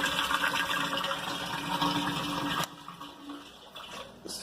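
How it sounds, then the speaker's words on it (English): A pump moving water from an RODI tank into a saltwater tank gives a steady rushing, gushing flow that drops abruptly to a quieter trickle and hum partway through. No one speaks. "Switch 2 turns on the pump in the RODI tank, which then pumps water into the saltwater tank."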